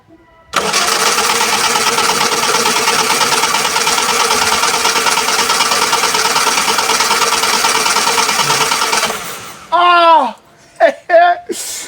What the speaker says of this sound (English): Let's see if it's going at least to crank